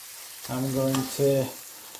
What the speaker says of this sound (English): onions have nicely softened up and slightly brown. Oil has separated